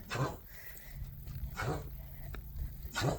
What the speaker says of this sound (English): That's Gage choking from barking